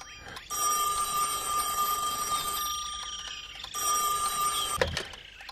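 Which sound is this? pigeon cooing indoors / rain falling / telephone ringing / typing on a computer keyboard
telephone ringing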